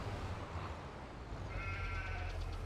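Sheep in a farming video game bleat once over a steady low rumble of game ambience, the call rising faintly in the middle distance and fading after a second or so, with no talk.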